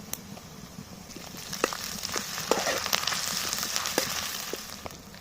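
Onions and green chilies fry in a pan for an egg biryani, giving a soft, continuous sizzle dotted with small crackles and pops, faint and steady with no talking.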